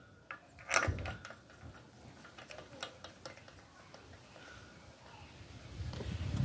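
Bolt removal tool working wheel bolts on an Audi A6 3.2 during axle removal, giving quiet mechanical clicks and ratcheting ticks, a sharper knock near the start, with a low rumble building toward the end.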